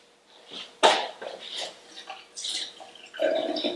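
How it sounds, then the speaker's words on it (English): Hot water poured out of a mug splashes and trickles in uneven gushes with small clinks, close and moderately loud, with no voices. "So let me pour this hot water out"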